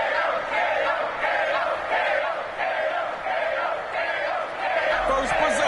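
A stadium crowd cheers and roars in a football video game ahead of a possession, a dense sustained swell of many voices rising and falling in waves, loud and continuous throughout.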